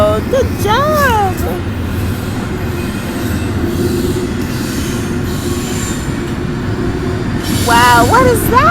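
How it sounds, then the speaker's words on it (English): A train rolls past with steady, loud rumbling and rail noise throughout, with brief high wheel squeal; a voice chatters at the start and end. "look at the train."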